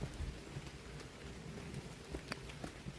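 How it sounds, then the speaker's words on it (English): Rain falls on the woodland canopy of the Wissahikon in Philadelphia during a morning hike: a soft, faint, steady patter with a few scattered drops landing nearby. "I don't know if you can hear the rain, but it may be coming down a little harder"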